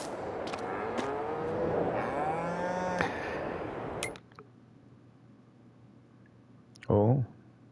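Cattle mooing on a farm in Farming Simulator 22, several long, close lowing calls overlapping for a few seconds, then near silence before one more short, loud moo near the end.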